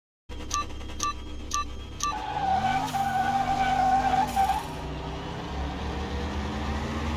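A drag-tuned Chevrolet Nova launches in Car Mechanic Simulator 21, its engine revving up through rising gear pulls with tire squeal, loud and close, after a few short beeps at the start; no talk.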